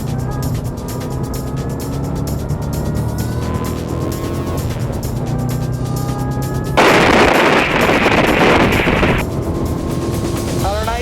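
A Holden car rated at 380 kilowatts accelerates hard, its engine roaring loudly and steadily with rising harmonic tones, then a sudden louder burst of broadband noise midway before settling again.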